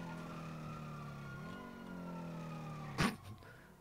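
GTA roleplay police sirens wail in steady overlapping tones with a dip in pitch partway through, followed by a sharp thump and a short burst of noise near the end. The sound is faint, and no voices are heard.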